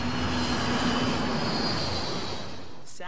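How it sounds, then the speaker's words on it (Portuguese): Steady broadband roar of a normal passenger airplane flying over residential Queens, New York, loud and continuous with a faint rising whine, fading slightly toward the end; no talk. "O som de início era só de um avião normal voando."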